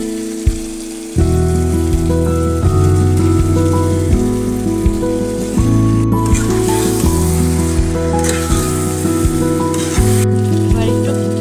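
Chicken pieces go into hot oil with fried-down spices and dried chilli paste, giving a loud, steady sizzle that continues beneath prominent background music with regular stirring clinks.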